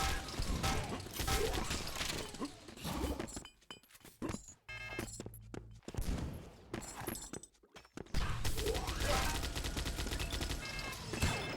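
Quake match with rapid bursts of gunfire, rocket blasts and mechanical clanks, dense and chaotic, dropping into brief quieter gaps before the shooting resumes.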